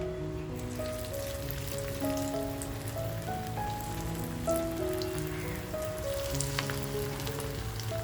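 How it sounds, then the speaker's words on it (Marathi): Steady rain patters on a surface in a continuous hiss, with a few brief tonal notes drifting over it and no one speaking. "बाहेर असा मस्त पाऊस पडतोय"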